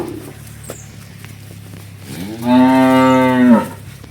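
A dairy cow moos once, a long, loud, tonal low that swells and fades after a quiet stretch of faint background noise.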